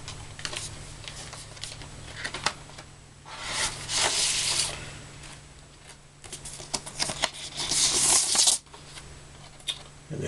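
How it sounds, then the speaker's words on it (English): An X-Acto knife slices through the shrink-wrap on a vinyl record package, giving close, crisp scratchy cuts in several bursts with short pauses between them over a low steady hum. "This is a pretty clean cut right through."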